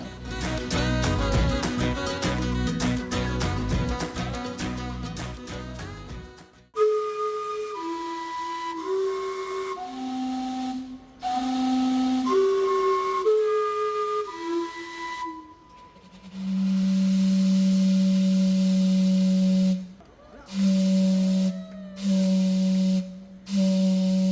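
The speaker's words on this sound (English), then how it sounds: "This iconic steam clock can be found in downtown Vancouver." Gastown steam clock in downtown Vancouver whistling a chiming tune as a series of clear, tonal steam-whistle notes, followed by long sustained hissing whistle blasts, heard outdoors with street ambience.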